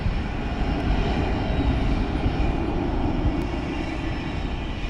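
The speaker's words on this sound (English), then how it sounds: "we got another feeder coming in on the runway" A FedEx feeder plane comes in to land on the runway at San Juan's international airport, its engine a steady, broad roar throughout with no voices.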